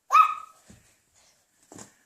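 A short, high squeaky bark from a toy dog, followed by a faint low rustle and a second quieter yip about a second and a half later.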